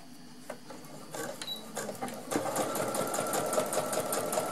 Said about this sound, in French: je vais les recoudre ensemble. En espérant que ma machine vaille bien.